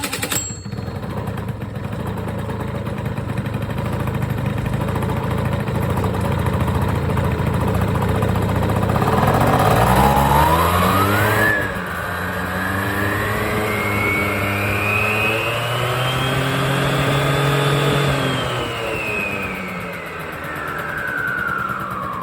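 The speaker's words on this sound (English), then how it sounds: "I'm actually going to run this real quick. I want to see how it looks. I'll wide open." A 50cc scooter engine with its belt cover off runs close by, idling roughly before being revved wide open, the pitch climbing steadily, holding high, then falling back toward idle.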